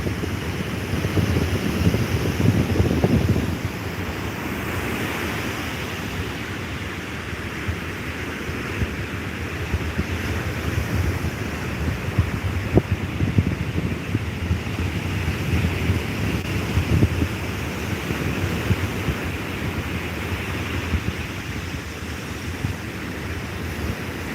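Open sea with steady wind and rolling waves, a continuous broadband wash of surf and wind buffeting the microphone, with a slightly stronger surge near the start and no voices.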